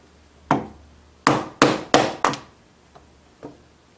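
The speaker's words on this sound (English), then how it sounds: "I'm using a wooden mallet and my sharp chisel." A wooden mallet drives a sharp chisel to split sapwood off a piece of wood for window sash pegs. Five loud, close, hollow knocks land in quick succession, followed by two fainter taps.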